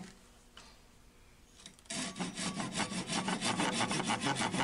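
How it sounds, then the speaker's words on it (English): A Japanese pull saw cuts through a wooden stem on a woodturning piece: after a quiet start, a run of rhythmic, raspy back-and-forth strokes follows close to the microphone. "with my Japanese saw"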